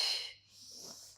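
A forceful breath pushed out through the nose and mouth during a Pilates core exercise, a short breathy rush followed by a softer trailing exhale, close and quiet.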